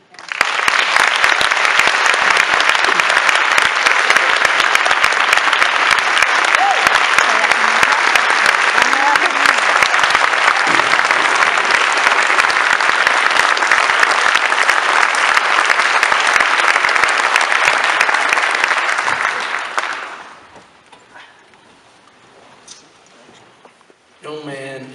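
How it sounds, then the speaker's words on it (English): Loud, sustained applause from an audience at a Charleston Animal Society anniversary celebration honoring Mayor Keith Summey, dense clapping lasting about twenty seconds before fading into quiet room noise. "Let's give a round of applause for Mayor Keith Summey."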